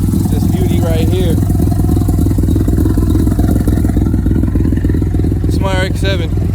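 An old Mazda RX7 engine idles with a low, steady rumble throughout, loud and close, while someone talks over it.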